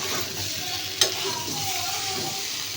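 Food frying in a kadai wok, with a steady, close sizzle and stirring noise throughout and one sharp clink of a utensil near the start.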